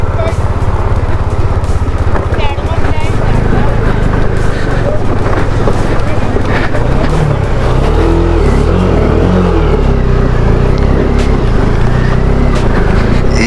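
Car engine laboring and revving while pushing through a water crossing on Baralacha La, loud and close with wind buffeting the microphone and splashing underneath; engine pitch rises and falls steadily across the drive, and a voice talks over it.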